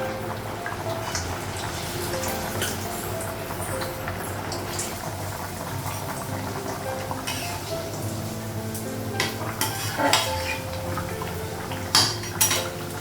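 A metal spoon scrapes and clinks against a pot of thin fish curry over low bubbling, with a few sharper knocks of metal on metal near the end.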